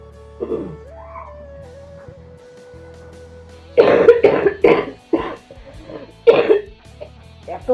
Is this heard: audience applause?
no